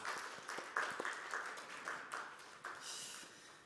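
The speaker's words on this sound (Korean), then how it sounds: "우리 박수로 격려하도록 하겠습니다." Sparse, faint clapping from a small church congregation during a Sunday worship service, scattered individual claps rather than a full ovation, quiet and brief.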